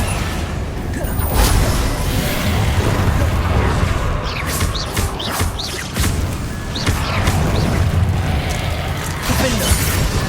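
Hogwarts Legacy Confringo spell blasts, fiery bursts and whooshing crashes layered over a dense, constant roar of in-game combat noise, loud and close.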